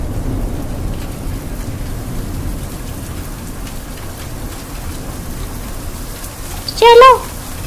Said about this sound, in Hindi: तेज बारिश होने वाली है।